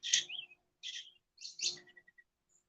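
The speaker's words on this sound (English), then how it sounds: "See, the bird just said something when I said that." A bird outdoors gives several short, bright chirping calls in separate bursts, followed by a faint string of quick tiny notes, fairly close with quiet gaps between.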